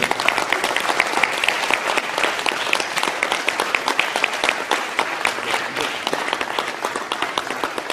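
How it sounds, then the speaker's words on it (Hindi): Sustained crowd applause at a theatre award ceremony as a directing trophy is presented, many hands clapping in a dense, even stream that holds at a fairly loud level throughout. "तालियों से गुंजायमान करिए।"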